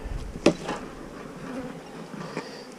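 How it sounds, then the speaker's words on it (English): Honey bees buzzing around an opened hive during January hive work, a steady near drone with a sharper burst and movement close by, with no talking. "Got a bee stinging me in the belly here."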